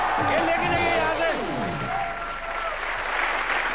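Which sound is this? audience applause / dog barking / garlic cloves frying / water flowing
audience applause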